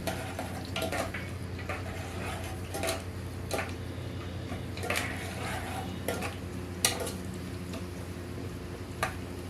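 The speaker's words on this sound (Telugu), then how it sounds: "మంచిగా కలుపుకోవాలి అన్నీ." Paneer biryani ingredients are stirred and mixed in a pot, giving repeated scraping and clinking of a spoon against metal over a soft, steady background frying hiss.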